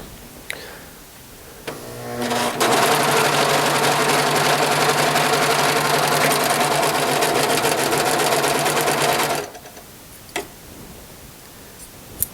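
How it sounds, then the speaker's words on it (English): Serger stitching the raw edges of a t-shirt neckband into a continuous loop, a steady fast whirring run of about seven seconds, close and loud, with brief handling clicks before and after. "So I'm going to serge right along there to attach it and make it a one continuous tube or circle."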